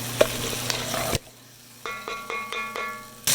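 Short rib braise with garlic in a pan gives a broadband sizzle for about a second. A quieter stretch of faint clinks and stirring scrapes follows, then the sizzle surges back loudly at the end.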